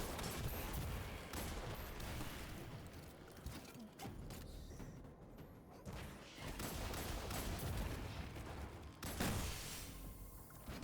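Rocket launcher fire and explosions against an ogre in Destiny 2, a dense, continuous stretch of loud gunfire and blasts, with heavy booms near the middle and again late on.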